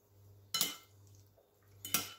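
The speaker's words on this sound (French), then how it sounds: "Et là, on remue l'ensemble." Salmon tartare being stirred in a bowl with oil, herbs, shallots and fleur de sel, giving two distinct clinking scrapes of a utensil against the bowl over a faint low hum, close and fairly quiet.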